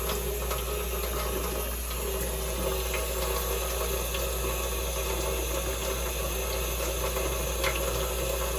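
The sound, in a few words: water running from tap while washing hands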